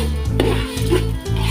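Rice being stirred and fried in a large cooking pot for chicken biryani, with a few rhythmic scraping strokes of a spoon against the pot bottom, close and fairly loud, with no talking.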